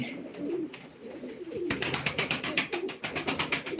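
Pigeons coo in low, throaty murmurs at a live pigeon auction, then a rapid rhythmic fluttering pulse takes over, close and fairly loud.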